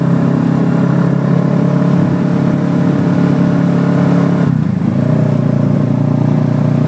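Vehicle fitted with a new aftermarket exhaust, heard as a loud, steady close-up engine drone, the pitch dropping partway through and then holding at a lower idle-like tone.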